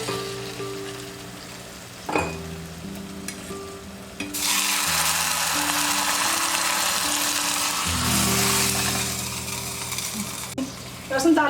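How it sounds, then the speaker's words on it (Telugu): Hot tempering poured into rasam for a South Indian thali, a sudden loud sizzle that bursts in after a few seconds and hisses steadily before fading, under light background music. "ఇలా రసం కూడా తాలింపు వేసుకోండి."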